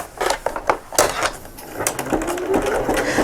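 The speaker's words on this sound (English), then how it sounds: "I'm just going to run that under the machine again and just do a nice neat zigzag finish." A sewing machine runs a zigzag finishing stitch on a pouch seam in short, close, uneven bursts of rapid mechanical chatter.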